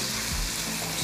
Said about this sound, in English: we're not trying to caramelize them. We're just trying to sweat them down until they're translucent.